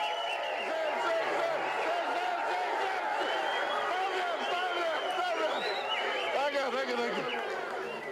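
Election rally crowd in Tari, Papua New Guinea: a constant wash of chatter and overlapping voices, with occasional louder cries rising above the dense hubbub.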